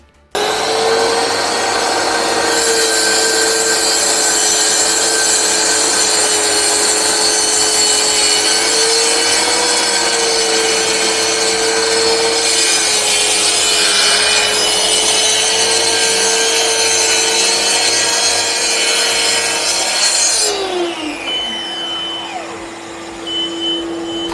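A Mafell MT55 plunge saw cuts through wood with a loud, steady high-pitched whine and rasping cut that holds for about twenty seconds, then spins down as the blade winds off.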